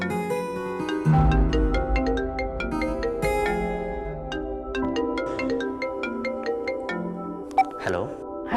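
A mobile phone plays a melodic ringtone for an incoming call, a steady run of bright repeating chime notes that lasts several seconds, near and fairly loud, with a brief sharp click near the end.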